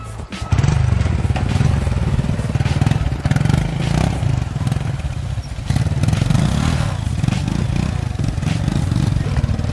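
Motorcycle riding on an off-road track, loud close engine drone with steady revving, clattering and thumping over rough ground throughout.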